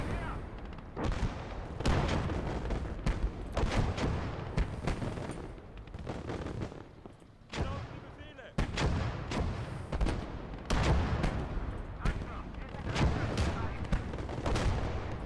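Repeated mortar and artillery blasts from the World War II strategy game Call to Arms: Gates of Hell, German conquest campaign, thump through the whole stretch as loud, dense overlapping bursts of gunfire and explosions with brief lulls between volleys.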